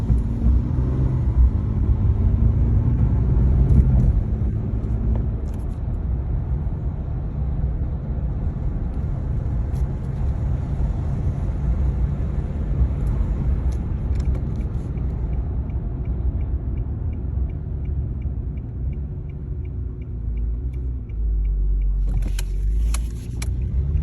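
A car engine idles roughly because of a leak in the system, a steady low rumble with slight unevenness heard from inside the vehicle, continuous and fairly loud, with a few faint clicks near the end and no talking.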